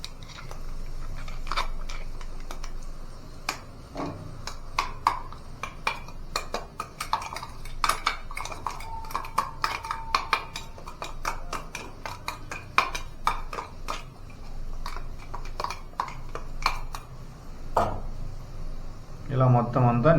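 A spoon scrapes and clinks against a pan as a beans curry is stirred, giving irregular metallic taps and scrapes at close range that are fairly steady throughout and turn denser near the end.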